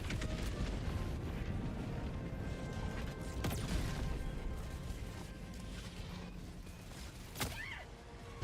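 A Hellbomb detonating in the video game Helldivers 2: a loud, sustained roaring rumble fills the whole stretch, with a couple of sharper crashing bursts rising out of the din.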